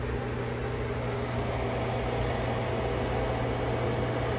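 A 600 watt Commercial Chef microwave oven runs at full power on a solar battery through a sine wave inverter, giving off a steady, even hum and fan whir that holds unchanged and fairly loud throughout.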